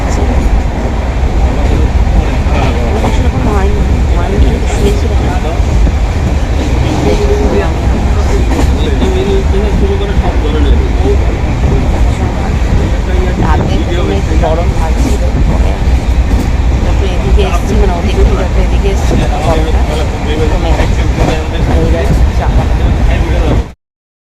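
A moving train heard from inside a passenger carriage, a loud continuous rumble with rhythmic rail clatter throughout, steady and close, with indistinct voices mixed in.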